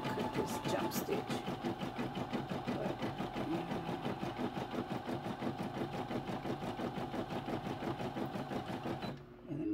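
A commercial embroidery machine stitches a design onto a baseball hat, giving a steady, fast mechanical whirring chatter that runs close and loud, then stops abruptly near the end.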